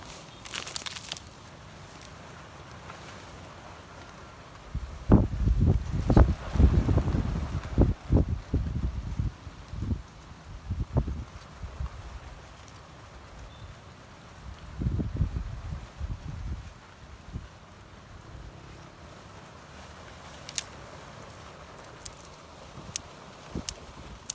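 Outdoor wind gusts hit the microphone in uneven low rumbling bursts, strongest in a long middle stretch and again later, between quieter spells of faint rustle.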